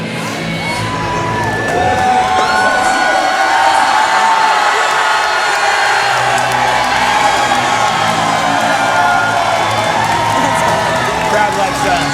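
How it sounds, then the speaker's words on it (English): A dense, loud crowd cheers and whoops continuously at a live MMA event in a fighter's hometown, with commentators talking over the roar throughout. "Crowd likes that."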